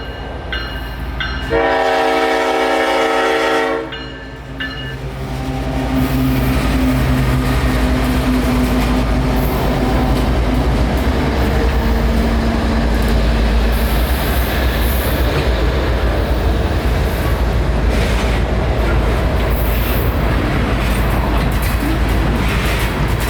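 A CSX freight train rolls slowly past a siding, its horn blaring in a long, loud blast near the start, followed by a steady, close rumble of wheels and cars grinding by without letup.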